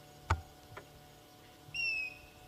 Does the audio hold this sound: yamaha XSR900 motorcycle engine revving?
no